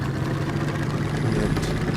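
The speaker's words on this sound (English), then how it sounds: "you get that nice, throaty, supercharged sound. Sounds almost like a big diesel engine to me" A throaty supercharged engine on a heavy vehicle in the game Trailmakers, a loud steady low rumble like a big diesel, running continuously with no speech.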